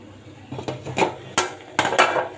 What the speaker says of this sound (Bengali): এই যে পেঁয়াজটা আমি কুচি করে দিয়েছি, এটা এখন একটু থেতলিয়ে নেব।